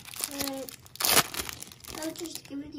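A 2001 Fleer trading card pack wrapper is torn open by hand, giving crinkling foil and one sharp rip near the middle, while a person talks quietly close by.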